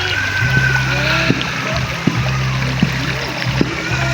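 Cold river water rushes and trickles steadily where bathers stand in a stream, a close continuous wash with small splashes, while a low hum and brief voices sit faintly underneath.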